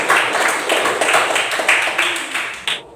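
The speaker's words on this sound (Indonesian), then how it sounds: "tepuk tangan" Dense clapping from a group of schoolchildren in a classroom, steady and fairly loud, with faint voices mixed in before it stops abruptly.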